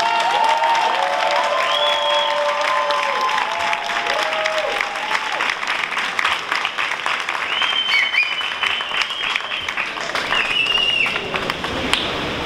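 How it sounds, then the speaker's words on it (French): A crowd applauds steadily at a rally in an occupied theatre in Brussels. Dense, sustained clapping fills the whole stretch, with scattered cheers and a few voices rising above it. "Je vous demande de l'accueillir sous un tonnerre d'applaudissements, Selma Ben Khalifa."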